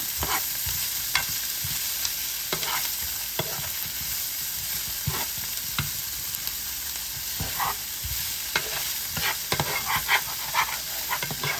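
Onions browning in a pot for beef stew, a steady broad sizzle throughout with frequent stirring scrapes and clicks; a dog barks faintly at times in the background.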